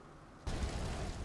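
A sudden deep explosion booms in the Aliens Colonial Marines video game, a loud low rumble that starts abruptly and holds steady to the end.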